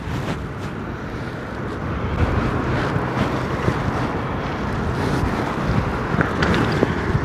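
A strong headwind buffets the microphone on a small fishing boat at sea, making a constant broadband rumble and rush that swells slightly, with no one speaking.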